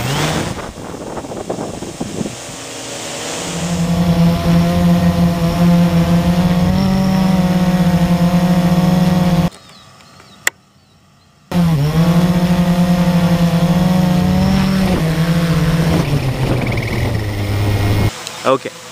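A Blade 350 QX quadcopter drone hums steadily with shifting rotor pitch as it climbs and flies distances outdoors, loud and close, with a brief dropout midway and wind noise throughout.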